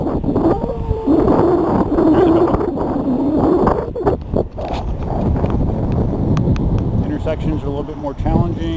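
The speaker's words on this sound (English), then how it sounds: "Headwind." Headwind buffeting the microphone while riding a Ninebot One electric unicycle, a loud continuous low rumbling roar that persists throughout.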